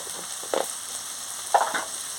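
Small soybeans are sautéed with salt and sugar in a pan for a Bengali chorchori. A soft, constant sizzle runs throughout, broken by two brief stirring scrapes, and no one speaks.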